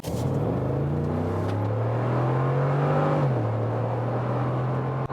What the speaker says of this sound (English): And let's see how this acceleration here turns out. And also what the sound is giving us then here in the G500.